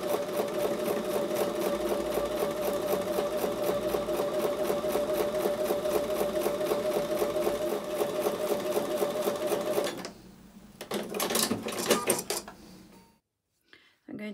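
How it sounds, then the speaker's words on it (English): A sewing machine stitches quilt block pieces a quarter inch from a drawn line, running in a fast, steady whir for about ten seconds before slowing, stuttering briefly and stopping, close and clear. "I'm going to take those over to the sewing machine and I'm going to sew a 1/4 inch on both sides of the drawn line"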